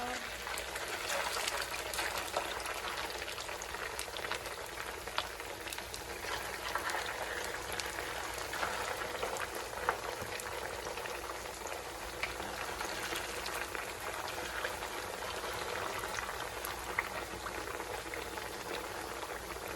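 Corn tortillas fry in hot oil, filling the scene with a dense, continuous bubbling sizzle that holds steady and fairly close throughout, with faint talking mixed in.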